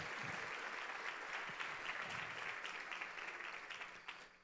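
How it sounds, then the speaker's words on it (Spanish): An audience at a national convention applauds to welcome a speaker's wife, a sustained wash of clapping that stays even and then tapers at the end, heard from some distance. "Vamos a recibir a mi esposa con un fuerte aplauso"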